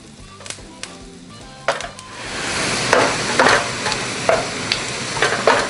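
Diced chicken breast sizzling in a hot pan, a steady frying hiss that swells after a quiet start, broken by repeated sharp scrapes and taps of a utensil stirring the pieces.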